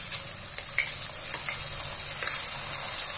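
Chopped tomatoes go into a hot pan for stuffed karela masala, setting off a steady, close crackling sizzle with a few soft spatula stirs, no voices.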